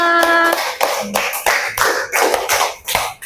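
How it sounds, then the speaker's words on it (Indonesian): A classroom of students claps hands together at an Islamic religious education lesson, a brisk burst of irregular near applause lasting a few seconds, preceded by a brief tonal sound. "Beri tepuk tangan untuk kita semua."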